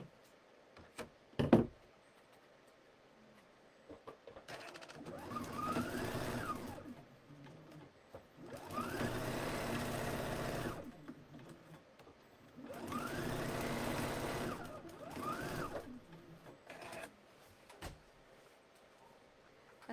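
A domestic sewing machine stitches a fabric facing onto a garment hem in three separate runs of steady whirring, each a few seconds long, with soft knocks and handling sounds between them, fairly quiet and close.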